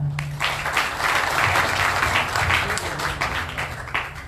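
Applause at an Indonesian political campaign event, a dense crowd clapping steadily for several seconds at fairly close range with a low hum underneath.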